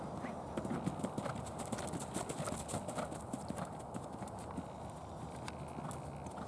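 A horse canters over a jump course, its hoofbeats drumming in a steady, fairly close rhythm over constant outdoor background noise.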